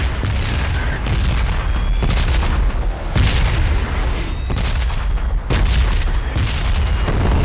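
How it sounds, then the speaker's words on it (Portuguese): Heavy explosions pound a PUBG Battlegrounds bombing zone, loud and near, with deep booms rolling in one after another and a dense, continuous rumble between the blasts. "A zona de bomba."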